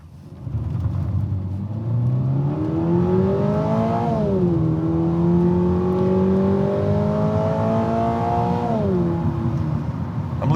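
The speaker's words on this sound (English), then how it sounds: "let's see how the GR86 handles, especially on Michelin Pilot Sports" Toyota GR86 sports car driving on a wet mountain road on Michelin Pilot Sport tires, its engine rising steadily in pitch through the gears, dipping at a shift and climbing again, loud and continuous with tire hiss underneath.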